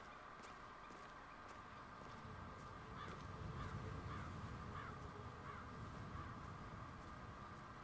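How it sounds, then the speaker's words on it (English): Crows cawing from a tree in the video game Hitman 3, a run of repeated harsh caws spread over several seconds against a steady ambient background, fairly faint and with no talk. "I need those birds gone, do you hear me?"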